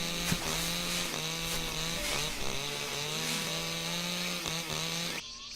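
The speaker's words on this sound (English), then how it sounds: "Starting the engine of the lawnmower" A lawnmower engine starts up outside a shed, a steady buzzing mechanical drone with a raspy motor whine running continuously, fairly loud and close, then cutting off abruptly at the end.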